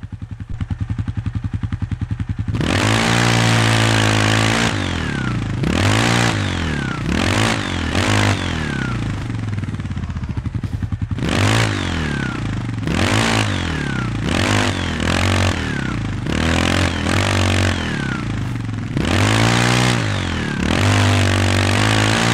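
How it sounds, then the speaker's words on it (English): ATV engine in the off-road video game Overpass, a loud mid-pitched motor that repeatedly revs up and drops back in surging bursts after a brief quieter idle, with occasional clattering as the quad bumps over rough terrain. "Driving an ATV is a bit different."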